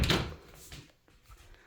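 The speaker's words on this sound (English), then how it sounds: "there's the door that's to the walk-through closet" A door to a walk-through closet in a home with rugs on the floor swings or closes once at close range, a short muffled knock and thud that fade quickly into quiet room tone.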